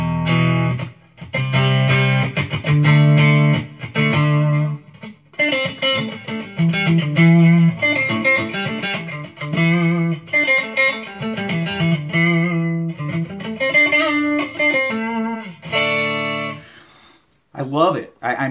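Fender Stratocaster electric guitar with Texas Special single-coil pickups, set to the in-between hum-canceling position, playing a bright melodic run of sustained notes and chords, loud and close, with a brief pause near the end.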